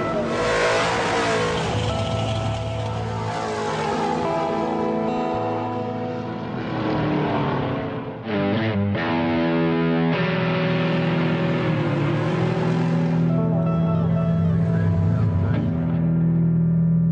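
Cars revving hard at a drag strip, loud sustained engine roar with rising and falling pitch, a brief gear-change break midway, then more aggressive acceleration.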